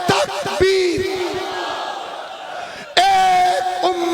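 A large crowd roars a short religious slogan in unison, a loud massed shout rising right after a lone leader's call, then a second loud chant starting again near the end.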